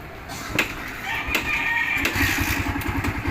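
A Bajaj Barako motorcycle with a newly replaced tensioner is started up, settling into a quick, even low idle thud, with roosters crowing and clucking in the background.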